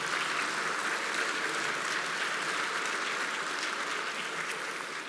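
Dense, sustained applause fills the Chamber of Deputies, a loud even roar of many hands clapping for the full stretch without any talk.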